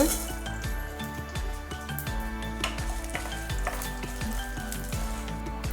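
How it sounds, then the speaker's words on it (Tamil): Mustard seeds and urad dal crackle and sizzle steadily in a tablespoon of hot oil for a ragi semiya tempering, with close scraping stirs and occasional pan clinks throughout. "எண்ணெய் காஞ்சிருச்சு கடுகு உளுந்தம்பருப்பு போட்டுக்கோங்க"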